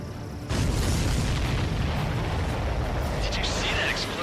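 A deep, booming explosion from the aerial combat game Ace Combat 7 hits suddenly and leaves a loud, sustained roar of blast and jet noise under game dialogue.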